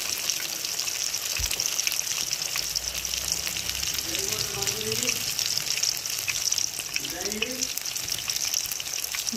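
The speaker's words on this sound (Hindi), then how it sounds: "ताकि अंदर तक ये अच्छी तरह डीप फ्राई हो जाए।" Eggplant slices deep fry in hot oil with continuous, dense crackling and bubbling, close and loud throughout, with a few brief tonal sounds rising over the sizzle near the middle and later.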